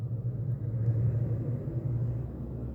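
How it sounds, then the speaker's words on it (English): Heavy trucks pass along a roadside beside a parked truck at night on the 453 in Nottingham, a low continuous rumble that swells slightly and fades, with no voices. "so you can hear trucks going past"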